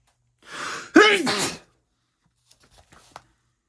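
A sharp inhale builds into one loud, close sneeze, followed by a few faint rustling sounds.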